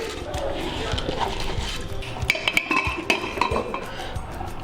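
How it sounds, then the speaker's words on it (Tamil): Kavuni black rice tipped into a metal pot: a brief scattering rattle of grains followed by several clinks and knocks of utensils against cookware, close and moderately loud, with a faint voice in the background. "இப்போ இந்த அரிசியை இதில் போட்டேன்."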